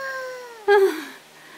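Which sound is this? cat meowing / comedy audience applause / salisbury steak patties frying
cat meowing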